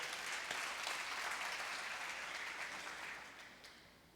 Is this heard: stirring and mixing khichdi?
no